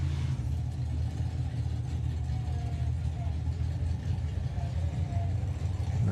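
An Oldsmobile hot rod engine idles at the Santa Pod Raceway drag strip during a hot rod drag meeting, giving a steady, loud, low rumble that holds throughout with no clear revs, while indistinct voices murmur faintly underneath.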